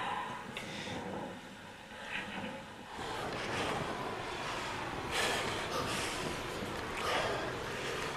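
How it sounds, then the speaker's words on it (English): Strong wind buffets the microphone during a climb up a ladder to a BASE jump, a continuous rushing roar that swells in gusts and grows louder partway through. "No, it's the wind."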